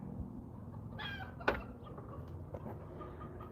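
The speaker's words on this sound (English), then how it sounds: "That chicken's losing its mind." A homestead chicken clucks loudly during morning chores, a few sharp, agitated calls with one strong squawk among them over low background noise.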